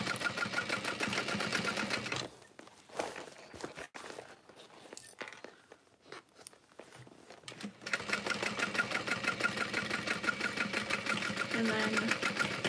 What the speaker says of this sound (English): Stitch, and then continue on sewing next to but not through the curve.